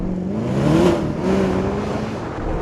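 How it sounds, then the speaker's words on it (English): A Mercedes-AMG SLS Black Series with a naturally aspirated engine roars through its exhaust, the note swelling as it revs, dipping briefly, then climbing again, loud and close with no talk over it. "There are no turbos deadening the noise from the exhaust."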